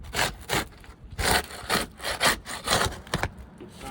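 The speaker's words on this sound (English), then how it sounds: "See how we're scraping our shingle loose here." Rhythmic scraping of a roof shingle being worked loose with a flat bar, repeated rough strokes of metal against shingle, close and fairly loud with short pauses between passes.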